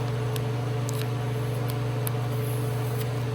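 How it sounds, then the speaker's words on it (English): A constant low electric hum with steady whooshing air, like a fan running close by in a hot garage during a Whipple supercharger install on a Coyote-swapped Foxbody Mustang, unchanging throughout. "Sorry for the fan noise, it's hot as shit out here right now."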